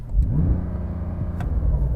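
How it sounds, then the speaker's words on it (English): A Porsche 911 Turbo S (992 generation) held against its rev limiter in neutral, a loud, sustained engine roar with a stuttering, bouncing pulse at the limiter, close and alone. "I'm going to do a sound check. Rev limiter."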